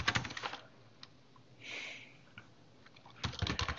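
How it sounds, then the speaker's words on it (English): Password typed on a computer keyboard for a Raspberry Pi Linux setup: rapid clusters of crisp key clicks at the start and again at the end, with a quieter pause between. "I will type in my password."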